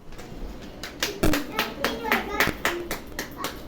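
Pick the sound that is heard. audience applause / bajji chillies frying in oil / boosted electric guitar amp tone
audience applause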